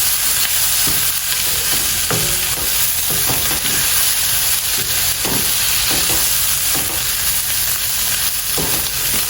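Bacon and onions fry loudly in a pan for Cornish hens and string beans, a steady broad sizzle with scattered utensil scrapes and stirring knocks throughout, no voices.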